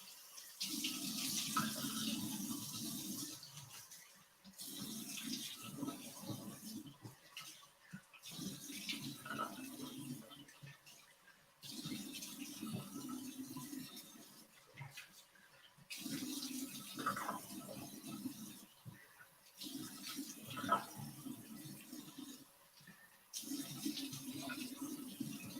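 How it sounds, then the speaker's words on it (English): Tap water runs into a sink while an exfoliating mask is rinsed off the face, several bursts of splashing flow with short pauses between them, close and moderate in level. "Rinsing off the exfoliating mask."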